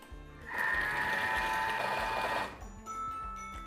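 Thermomix kitchen machine mixing cheesecake batter at speed 4, a steady whirring motor hum that runs for about two seconds and then stops, with faint clatter afterward.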